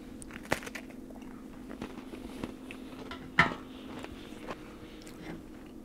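Close, quiet chewing of MRE crackers spread with peanut butter, with soft crunches and mouth sounds, a few clicks and light knocks, and a faint steady hum in the background. No talking.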